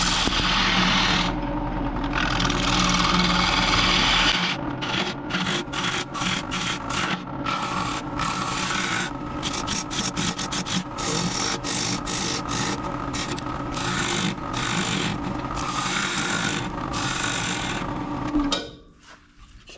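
A wood lathe spins a turned wooden piece while a tool scrapes and chatters against it in rapid rhythmic bursts, ending as the motor winds down; no voices.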